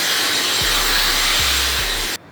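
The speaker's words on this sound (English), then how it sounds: "My Dyson hairdryer is on a 3-speed and 3 heat." A Dyson hair dryer set to third speed and third heat blows steadily while hair is blow-dried smooth, a continuous airy whoosh with faint low bumps that cuts off abruptly at the end.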